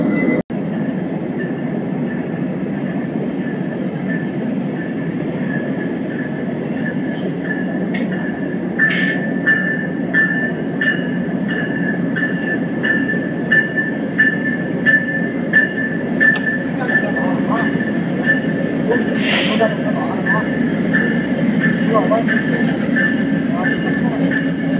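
Amtrak Southwest Chief passenger train number 3 rumbles past steadily and loudly for the whole stretch, with rail noise, tonal hum and brief squeals or clicks building toward the end.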